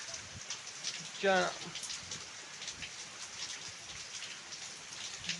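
Steady rain patters down continuously, with a voice briefly calling out over the downpour.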